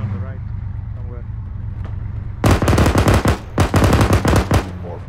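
Bursts of rapid automatic gunfire erupt in the military shooter Arma 3, two loud close volleys after a quieter stretch of engine-like rumble.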